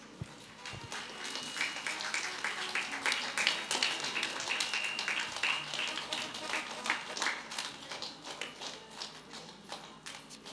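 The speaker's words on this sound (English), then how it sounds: "Let us all appreciate this wonderful team on the stage with a big applause" Audience applause for a team on stage at a school mini convocation day, a dense crowd of hands clapping steadily for about ten seconds, fairly loud and sustained with no talk over it.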